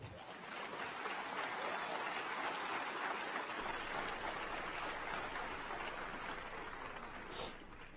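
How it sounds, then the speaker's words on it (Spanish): A church congregation applauds during a Spanish-language sermon, a steady, dense wash of clapping from many people that holds evenly throughout, sounding somewhat distant and noisy. "Yo no me enojo si aplaudes al Señor"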